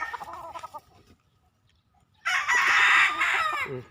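Young gamecock stags in a backyard breeding pen: a few soft clucks, a short silence, then one loud, near crow holding for over a second before cutting off.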